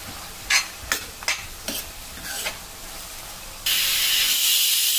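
A spoon stirs ridge gourd and tomato chutney in a pan, a handful of quick scraping strokes over a soft sizzle, then a bright, steady hiss of steam takes over near the end.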